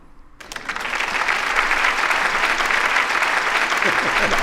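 A studio audience at a firearms talk show breaks into applause after a brief quiet start, building within half a second into steady, dense clapping that holds loud to the end.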